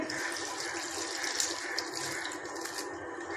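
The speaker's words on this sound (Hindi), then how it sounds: "इसमें अब 2 गिलास हम पानी डालेंगे।" Water pours in a steady, rushing stream into a cooking pot of kadu gosht (bottle gourd and meat curry), filling it continuously for a few seconds with no talking.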